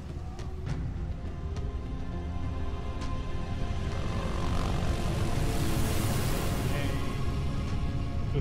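A helicopter in the Halo: Reach video game drones with a steady, dense rotor and engine roar that swells toward the middle, filling the whole stretch without pause.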